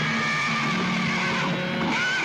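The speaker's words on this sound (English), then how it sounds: "Patterson's horse reared, throwing him." A rearing horse whinnies in a loud, shrill, wavering neigh lasting a couple of seconds, heard close and alone.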